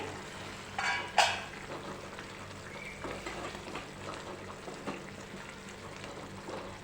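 A Kathiyawadi sev tomato sabji simmers under a lid with a low, steady bubbling sizzle, marked by a brief clatter of the lid or a utensil early on.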